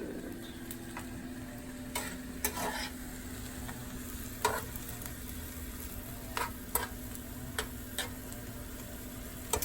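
Puerto Rican arroz con pollo with ham cooks in a pot, giving a quiet steady simmering hiss under a low hum, punctuated by sporadic sharp ticks and clinks.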